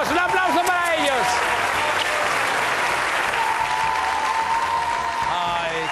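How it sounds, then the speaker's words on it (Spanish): Studio audience applause on a Spanish television show, loud continuous clapping with music-like tones and a voice sounding over it at the start. "¡Un aplauso para ellos!"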